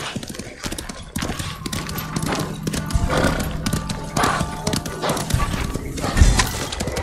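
Horse hooves clip-clop steadily with an occasional whinny, set against a busy, continuous soundscape from the game Ghost of Tsushima.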